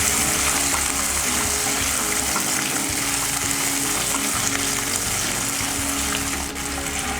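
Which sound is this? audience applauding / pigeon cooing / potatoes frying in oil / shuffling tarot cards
potatoes frying in oil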